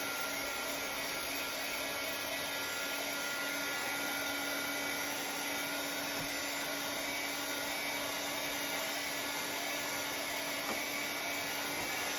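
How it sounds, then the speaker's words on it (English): A small heat gun blows without a break on freshly painted scrap wood, a loud, steady whirring rush of air with no pauses. "Let me get out my little heat gun."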